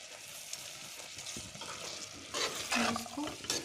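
Green chillies, mint and coriander tipped into a pot of lauki chana dal, giving a soft sizzle and stirring rustle that swells in the second half, with a brief clink near the end.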